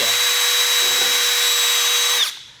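A power drill fitted with a wire brush spins steadily while polishing a part during a Toyota Sienna AWD differential arm bushing job, a loud continuous whine that winds down at the end.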